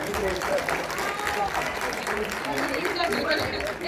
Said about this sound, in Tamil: அதுக்கு ஒரு பாராட்டு கொடுக்கலாம்.